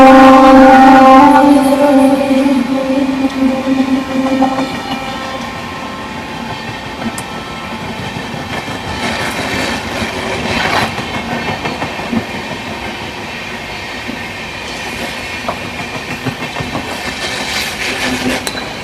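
A train pulls into a railway station on the Pune to Parbhani route, with loud rolling wheel clatter and rumble at first, easing into a long steady rattle of passing carriages and occasional squeals.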